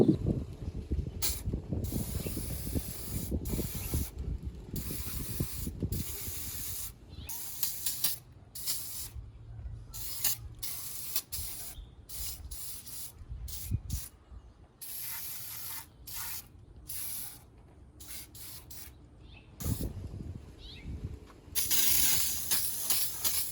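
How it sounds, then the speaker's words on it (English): A pressure washer sprays down the engine bay of a Ford Raptor, its wand hissing in long bursts broken by short pauses, with steady motor drone beneath and a louder burst near the end. "And I got my pressure washer machine right here."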